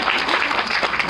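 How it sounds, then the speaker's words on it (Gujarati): A classroom audience of teachers claps together in a brief, steady burst of applause, fairly close and loud, with no talking over it. "તાળી."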